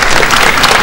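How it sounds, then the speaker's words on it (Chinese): Students standing inside a Peking University lecture hall greet the Japanese prime minister with loud, dense, continuous applause, close and unbroken. "那么学生都站起来正在鼓掌欢迎。"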